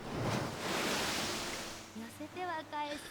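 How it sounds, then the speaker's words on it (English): In the Umamusume video game, ocean waves crash and wash as a broad, steady roar. A voice starts talking over it toward the end. "The sound of the waves crashing. Hear it?"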